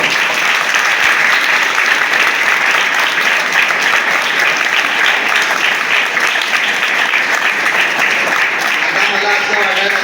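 Audience applause at a retirement ceremony for Kumbhar sir, a teacher: dense, steady clapping from a large crowd that holds at full strength for about ten seconds, with voices mixed into the clapping.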